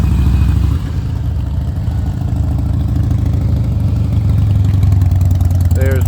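A motorcycle idles close by in a steady, unbroken low rumble lasting several seconds, with a faint clatter running through it.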